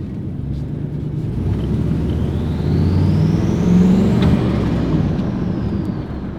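A turbocharged Chevrolet Silverado with a ram air style intake revs steadily and loudly, a low droning engine rumble swelling toward the middle with a faint rising turbo whistle above it, then easing off.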